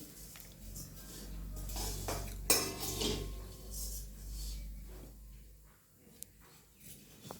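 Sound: vermicelli (shevaya) being roasted in a pan

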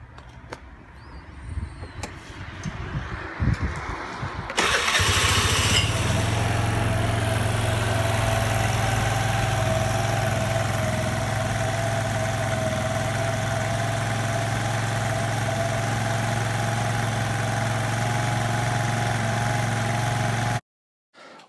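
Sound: 2001 Piaggio Vespa ET4 125 scooter starting up and idling

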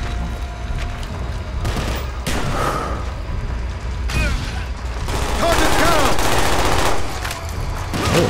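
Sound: gunfire from a gun in the video game Call of Duty Black Ops

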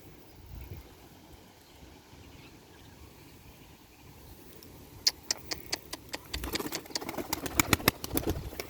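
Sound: pigeons at Istanbul Edirnekapı pigeon market

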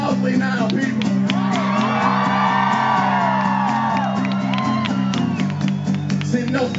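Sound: crowd cheering loudly at Tom Morello rally

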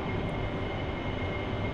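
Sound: AV-8B Harrier jet taking off from carrier deck, DCS video game

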